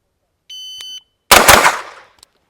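Pistol caliber carbine fired at a shooting competition: a steady electronic timer beep, then after a short pause a close, loud burst of shots with a decaying echo and a faint trailing click.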